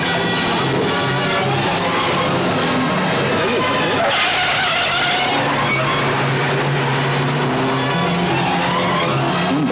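A jeep driven hard and fast, its engine roaring continuously close by with a dense, busy vehicle rumble and no break throughout.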